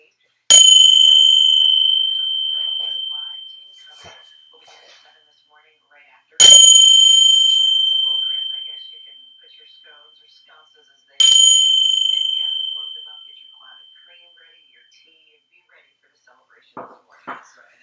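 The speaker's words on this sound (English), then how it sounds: "I'm going to ring the three bells three times" Three bells struck together, rung three separate times at even intervals of roughly five seconds, each ring bright and close and fading out slowly before the next, with brief faint talk at the very end.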